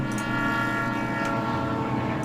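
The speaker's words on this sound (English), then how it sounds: "I thought we were gonna get rammed by an oncoming train." A loud, sustained train rumble with a blaring horn-like tone from an oncoming locomotive in the video game Nancy Drew: Last Train to Blue Moon Canyon, steady and close throughout with no talk.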